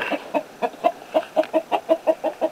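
A rooster clucks in a steady, rhythmic series of about a dozen short, close calls, evenly spaced with no talking.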